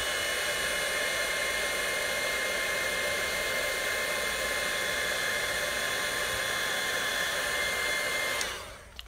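Steady whooshing blow of an embossing heat tool setting gold embossing powder on black cardstock, a loud continuous hiss with a faint whine that cuts off near the end.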